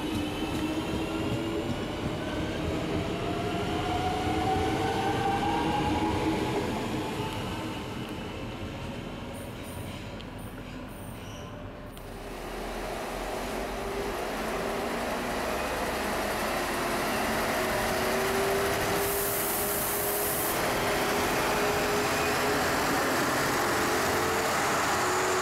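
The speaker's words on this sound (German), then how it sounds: "Kurz darauf folgt die Regionalbahn nach Bamberg, ebenfalls ein 440er." A class 440 regional electric multiple unit rolls through Würzburg main station, a loud continuous rumble of wheels and motors with a brief dip and faint squeal, heard close and alone.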